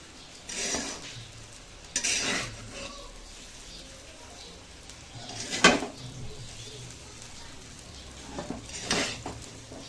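Keema rice being stirred in a pan, with a few separate bursts of scraping and clinking from a spoon against the metal between quieter stretches.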